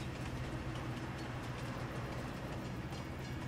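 A train rolls along in Farming Simulator 22, a low, steady mechanical rumble with a soft rhythmic clatter, quiet and unbroken for a few seconds.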